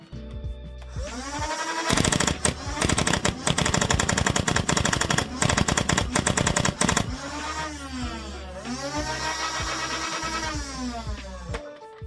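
A gun fires a long, rapid burst of fifty rounds, loud and close, in a dense rattling stream of shots that stops abruptly, followed by a steady mechanical whine.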